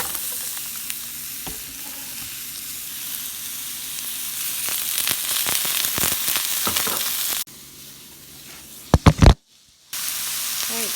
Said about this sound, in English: We're going to go ahead and just stir fry this for a bit.